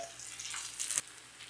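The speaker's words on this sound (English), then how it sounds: "Fry up the okra a bit." Okra sizzles quietly in a hot pan, a soft crackling hiss with a brief stir or spatter near the end.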